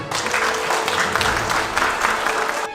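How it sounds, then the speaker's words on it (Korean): A burst of warm, sustained clapping from a small crowd at a local election candidate's campaign office opening in Mungyeong, steady and dense for a few seconds before cutting off. "우리 다 함께 큰 박수를 한번 보내드립시다"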